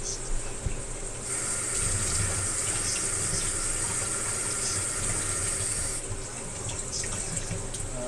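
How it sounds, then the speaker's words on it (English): Steady water running from a kitchen tap while something is rinsed off, a constant hissing gush that starts after a moment and continues evenly, with faint background sounds. "Go ahead and rinse it off."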